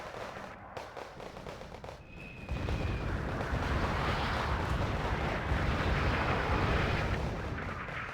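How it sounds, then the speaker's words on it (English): Artillery and mortar barrages in the real-time strategy game Wargame Red Dragon, a dense continuous roar of blasts and rumble that swells loudly after a quieter start and holds steady with a brief whistling streak early on. "That's again mortared by our own artillery here."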